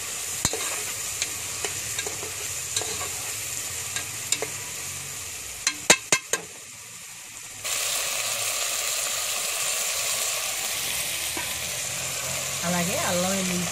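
Chopped onion pieces sizzle in a pan while being stirred for a home chicken curry. Scattered clicks and scrapes come first, then a steady, fairly loud frying hiss takes over.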